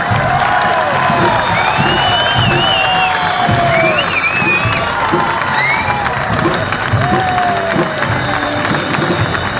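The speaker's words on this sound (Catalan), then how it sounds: "Un fort aplaudiment a la Mutxaranga del GPC." A street crowd at a Moors and Christians parade entry in Ontinyent applauds and cheers for a xaranga brass band, with dense continuous clapping, whistles and whoops held at a loud level throughout.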